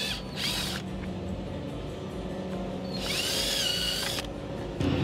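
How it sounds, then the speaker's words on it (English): A power drill whirs in two bursts, a short one early and a longer one later, biting into a 2013 BMW 335i front bumper with a gritty whine between quieter pauses. "I'm going to drill a hole here and then here"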